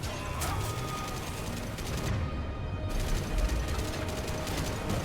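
Chakram launcher firing in Mass Effect 3 Legendary Edition, rapid rattling bursts of shots over a dense rumbling game soundscape, with a brief lull in the middle.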